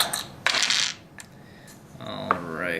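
Four dice for the Quorsum board game clatter onto a hard surface, giving one loud rattling burst, then lighter taps and a second shorter clatter, close and bright.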